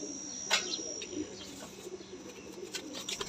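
Soft, low cooing of Sialkoti pigeons fills a breeder's loft, with scattered brief chirps and a couple of sharper flutters or clicks over the steady murmur.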